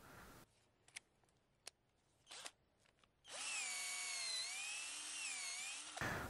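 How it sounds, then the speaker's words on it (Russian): A cordless drill with a bit boring holes into a birch tree trunk for sap collection: a few short clicks and bursts, then a steady high whine for about three seconds, close and loud with no talk. "Просто сверлим пару отверстий и вставляем туда трубочки."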